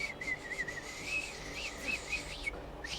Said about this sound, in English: That was the weakest ass whistle